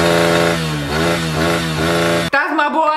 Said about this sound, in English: Honda CRF150F stock sauce.